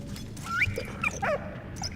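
Dog in the video game Valiant Hearts making a few short whimpering, yelping calls over a steady low game background, moderately close.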